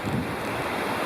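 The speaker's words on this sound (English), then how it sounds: "Those are the upper falls of Flat Laurel Creek," Small upper falls of Flat Laurel Creek along the Blue Ridge Parkway, a dense steady rushing roar of falling water, loud and close, with no voices.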